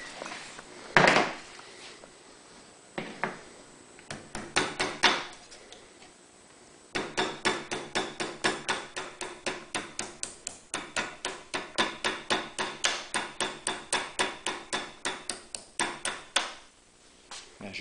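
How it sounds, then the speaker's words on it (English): A bent metal part on a generator electric-start build is tapped down on top of a vise with a hammer, scattered knocks at first, then a long steady run of evenly spaced, fairly sharp metallic taps close by. "So now I'm going to lay it on the top of the vise and just start tapping this down gently."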